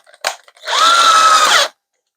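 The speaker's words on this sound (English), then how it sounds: "it's going to take more than one go, I think, to drill this out fully." A short tap, then a power drill whirs loudly at a steady pitch for about a second before spinning down and stopping, drilling out a part on a portable power inverter.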